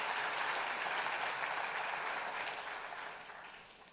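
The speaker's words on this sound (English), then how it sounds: "It's time to applaud the European" Audience applause at the official opening of Global Expo Botswana 2023, a dense, steady wash of many hands clapping from across a hall that holds strong and then gradually thins and fades toward the end.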